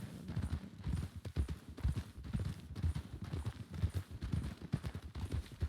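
Horse hooves clip-clop in a steady walking rhythm on hard ground inside a Wild West roleplay video game, close and moderately loud, continuing through the whole stretch.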